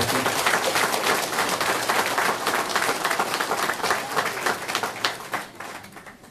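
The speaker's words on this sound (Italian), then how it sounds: "un forte applauso" A crowd applauds loudly at an election campaign closing rally, dense rapid clapping with cheers mixed in, holding strong before tapering off toward the end.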